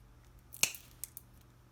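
Scissors snipping through wooden toothpicks for a model airplane: one crisp snip followed by two lighter clicks, close and quiet.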